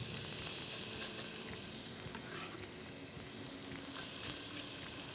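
Chopped onion, cut fairly coarse, sizzles in olive oil in a pot, a continuous bright frying hiss with occasional soft stirring scrapes and no voices.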